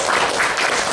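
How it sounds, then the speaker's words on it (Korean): A brief, steady wash of audience applause at a public forum on public procurement and anchor institutions in Busan, dense and continuous. "박수 한번 부탁드립니다"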